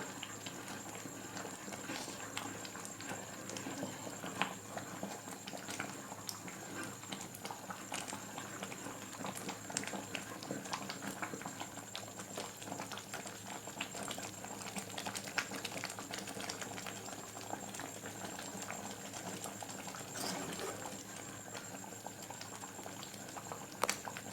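Gravy curry simmers and bubbles in a pot at home, a soft continuous boiling patter of small pops and bursts, fairly quiet and steady throughout, with no talking.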